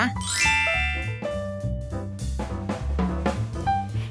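A notification bell chime rings out in bright, layered ding-dong tones, a cluster of clear struck notes sounding repeatedly over a few seconds with no talking.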